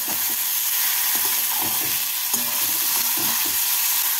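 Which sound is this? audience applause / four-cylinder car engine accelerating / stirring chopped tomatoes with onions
stirring chopped tomatoes with onions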